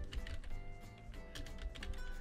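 Keys clatter on a computer keyboard while typing into Microsoft Word, a quick, irregular run of soft clicks, quiet and close, with no voices.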